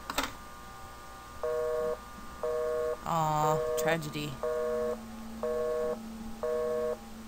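A telephone busy signal in the video game The Suffering: evenly spaced, steady tone bursts repeat about six times, briefly interrupted by a voice in the middle.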